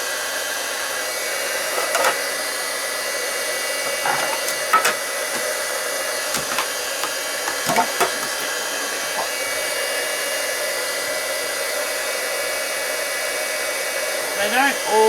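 Heat gun blowing steadily over a plastic shrinky Christmas ornament, a constant close airy whine with a few light taps and clicks scattered through.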